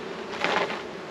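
Honey bees buzzing inside a wooden hive box, a soft, steady drone that swells briefly in the middle and then settles back, close by and alone.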